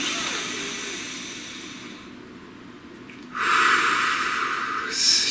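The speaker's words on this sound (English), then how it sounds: "please take a nice deep breath" One deep breath drawn in then let out, a short loud hiss of air rising near the end after a quieter pause, close to the microphone with no talking.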